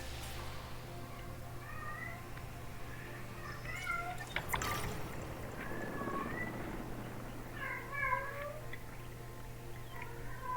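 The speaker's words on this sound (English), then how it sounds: "Oh, kitty's meowing." A pet cat meows repeatedly in a room during a Jurassic World Evolution 3 gaming session, several short clear calls spread across the span, with a brief thud or rustle in the middle over a low steady hum.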